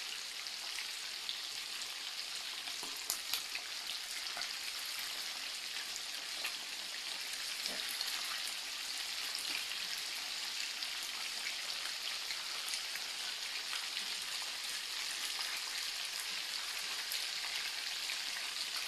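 Chicken pieces browning in a frying pan, a steady dense crackling sizzle of hot oil that continues evenly throughout with no voices.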